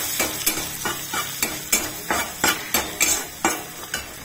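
Mustard seeds, two green chilies and ginger fry in hot oil on a stovetop for a curd rice tempering, a steady sizzle broken by a regular rhythm of sharp clinks from stirring, roughly every half second, with no talking.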